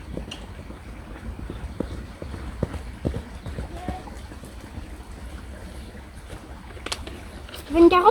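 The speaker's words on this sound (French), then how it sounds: "Il y a un falabella qui galope là" Hoofbeats of a small Falabella miniature horse galloping outdoors, a faint, uneven clip-clop patter at a distance under breezy background noise and occasional voices.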